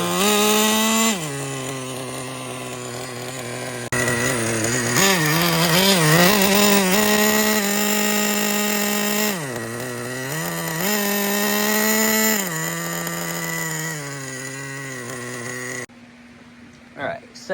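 A nitro-powered Traxxas Rustler RC truck engine running through a break-in tank, a loud, steady buzzing drone that swells and dips in pitch with throttle changes, close by, then cutting off near the end.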